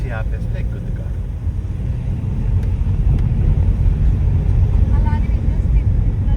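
Car engine climbing uphill with the AC switched off, a loud sustained low rumble and road noise that builds slightly, with people talking over it.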